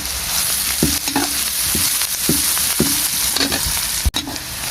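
Onions fry in a pan for a bhindi sabzi and are stirred, producing a loud continuous sizzle with repeated spatula scrapes and knocks against the pan.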